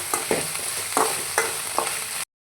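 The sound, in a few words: frying and stirring garlic in a pan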